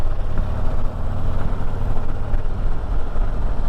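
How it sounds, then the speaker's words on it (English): A 2023 Harley-Davidson Fast Johnnie Street Glide runs under throttle on the road, giving a loud, continuous low rumble with a steady, throaty drone throughout. "Just open that throttle and the bike goes"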